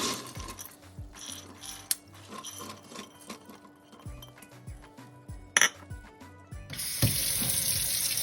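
Soaked, split mung beans get a quick rinse under a running kitchen tap, with water splashing and draining alongside small clicks and clatter of a strainer, and the flow grows louder and steadier near the end.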